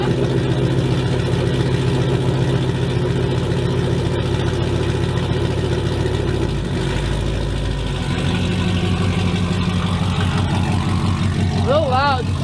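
A Dodge Charger R/T with a loud aftermarket exhaust idles roughly, then revs up and settles again, close and booming, with people talking over it near the end.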